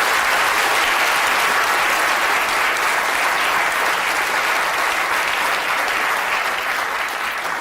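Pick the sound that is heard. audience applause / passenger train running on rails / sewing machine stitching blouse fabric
audience applause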